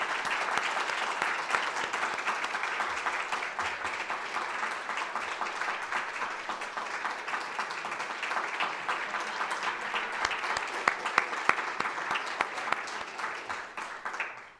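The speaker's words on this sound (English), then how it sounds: "let's give Fabio a huge round of applause for this year's recipient" Sustained applause from a lecture audience for Fabio Fernandez, a dense crowd of clapping hands that runs steadily for several seconds with a few louder claps near the end before it cuts off.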